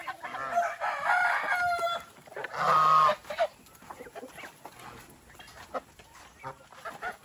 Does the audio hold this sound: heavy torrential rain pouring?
no